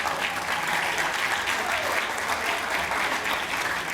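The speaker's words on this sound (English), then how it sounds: "so please give them a round of applause." Audience applause for the judges at a Ramadan singing-talent audition show, a steady, dense wash of clapping from a full room that holds level throughout without any voices.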